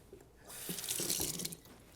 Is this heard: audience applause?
no